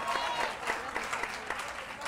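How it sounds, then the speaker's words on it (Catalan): Studio audience on a Catalan word-spelling quiz show clapping in a brief, quiet burst of applause with a voice faintly underneath. "Aplaudiu, per això."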